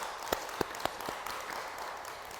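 A handful of sharp, separate claps ring out at a Buddhist dharma lecture honouring a temple abbot, thinning out after about a second into a low room hum.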